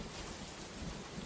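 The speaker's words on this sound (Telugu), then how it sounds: "ఏంట్రా వర్షం ఇలా పడుతుంది?" Heavy rain pours down in a dense, steady hiss with low rumbling thunder underneath, fairly faint and continuous, with no voices.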